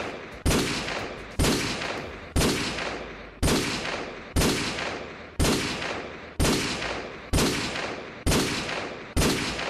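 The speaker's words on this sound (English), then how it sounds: "the Deagle from Modern Warfare 2" Desert Eagle pistol from Call of Duty Modern Warfare 2 firing ten loud single shots, evenly spaced about one second apart, each a sharp crack with a long ringing tail, alone with no voices.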